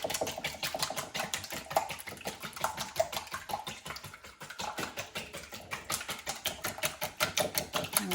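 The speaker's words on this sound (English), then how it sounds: "I'm going to take my whisk and I'm going to whisk the eggs" Eggs are beaten in a bowl with a whisk, a rapid, even clatter of close, fairly faint metallic taps that continues without a break.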